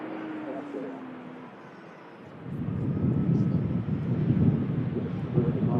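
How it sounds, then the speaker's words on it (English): A TUI airliner touches down at Manchester Airport, a distant jet hum swelling into a broad, rumbling roar of wheels and engines on the runway, with gusty wind noise over the microphone. "As the TUI 73 from Rius just touches down."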